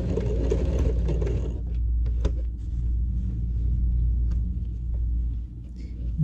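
A sewing machine stitches fabric for a scissor holder, a loud low rumbling motor drone close by with faint rattling mechanical clicks running throughout.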